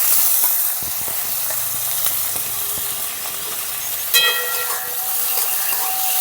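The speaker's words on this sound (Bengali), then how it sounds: "দিয়ে দিচ্ছি ছোট ছোট টুকরো করে রাখা আলু।" Small chopped potato pieces fry in hot oil for a Bengali drumstick-flower bhaja, giving an even, loud hissing sizzle with a brief metallic clink partway through.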